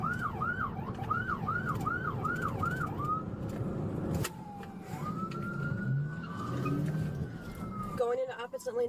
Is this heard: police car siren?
yes